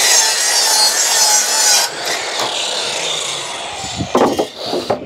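A twisted timber board being sawn up for a garden room base: loud, close, continuous rasping saw strokes that slow into a few separate scraping pulls toward the end.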